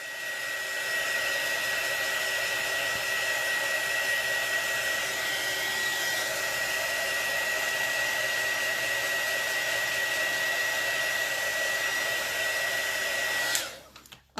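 A hair dryer blows steadily over chalk paint on a decorative design, a close, continuous whining hum lasting about thirteen seconds before it cuts off abruptly at the end.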